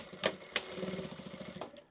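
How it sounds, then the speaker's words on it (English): A sewing machine stitches a zip-top purse in a short, fast run of regular mechanical needle beats, close and fairly quiet, framed by a couple of sharp clicks at the start and end. "Preferably get it into your sewing machine before you try and tuck up the bottom edge"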